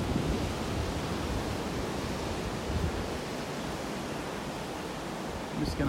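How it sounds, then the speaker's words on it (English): Ocean surf rolls steadily onto a sandy Gulf beach in North Naples, Florida, on a day of powerful waves, forming a continuous broadband wash with some wind noise and no pauses. "Those waves were pretty powerful today."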